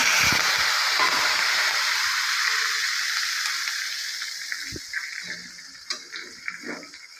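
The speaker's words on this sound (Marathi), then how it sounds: "तेल गरम झाले की घालूया जिरे जिरे छान तडतडले पाहिजे" Cumin seeds crackling in hot oil for a tempering, a strong sizzle that gradually fades, leaving scattered sharp pops and spatters toward the end, heard close with no talking.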